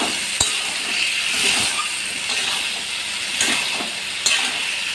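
Tomatoes stir-fried with spices in a pan for a papaya curry, a loud steady sizzle broken by several sharp spatula clinks and scraping stirs, close by.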